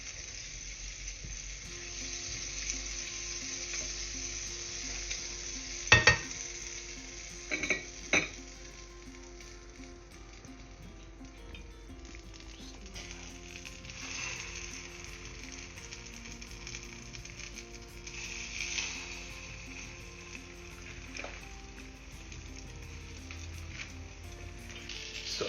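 Bread and banana slices frying in butter in a pan give a steady, soft sizzle throughout, with a couple of sharp utensil clinks near the start and no voices.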